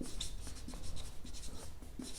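Marker or chalk writing on a board while working through a maths problem: soft, steady scratchy strokes in short bursts, close and fairly quiet over a noisy room background, with no talk.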